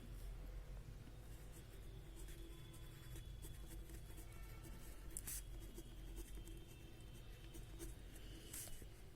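Numbers are written one after another on a classroom board during a maths lesson, heard as faint, rapid scratchy strokes and taps over a low steady background hum.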